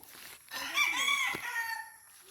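Gamefowl roosters on a game farm crow in one clear, drawn-out cock-a-doodle-doo at moderate distance, fairly faint, with no talking.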